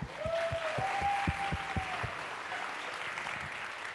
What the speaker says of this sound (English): Let's all give another round of applause to PR